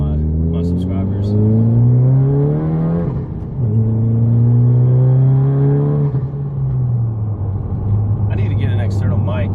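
A 10th-generation Honda Civic engine revs up and down in several rising and falling pulls, with a loud throaty exhaust drone close by and a brief voice near the end.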